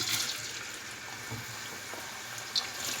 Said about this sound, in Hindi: इसमें ये सारे हम फ्राइज़ डालकर इनको हल्का सा फ्राई करेंगे